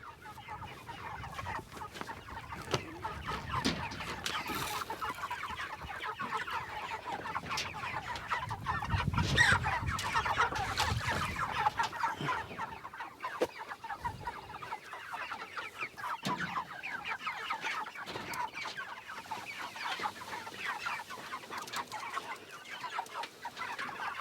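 Chickens in a chicken tractor cluck and murmur continuously at close range, with scattered louder squawks and some shuffling, no people talking.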